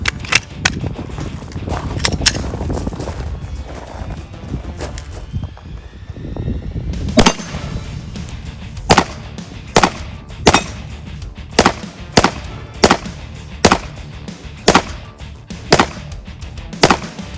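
A Glock 17 pistol fires at metal targets outdoors, with a rapid burst of shots early on, then a long series of single, evenly spaced sharp cracks and ringing hits, loud and alone.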